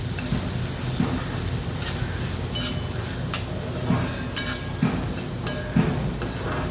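A vegetable mixture with crushed peanut powder stirred in a pan, a steady sizzle with repeated spatula scrapes and light clinks against the metal, close and moderately loud, no talking.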